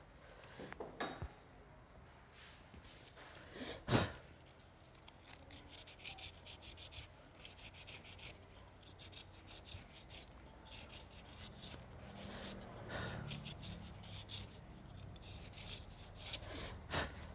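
Motorcycle clutch plates are rubbed smooth by hand, giving quiet, irregular scraping strokes with a few sharper metallic clinks, close by and without talk.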